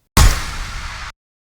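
Synthesized impact sound effect made for rock and metal music: a single loud, sharp broadband hit with a heavy low-end punch, sustaining as a dense roar for about a second before cutting off abruptly into silence.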